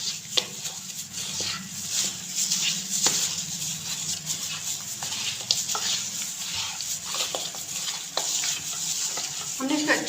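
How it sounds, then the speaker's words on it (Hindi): Beef marinade for karahi gosht being mixed with garlic paste and lemon juice in a bowl, giving wet, squelching stirs and soft scrapes with a few sharper clinks throughout, with no talking. "इसको हमें अच्छे से मिक्स कर लेना है।"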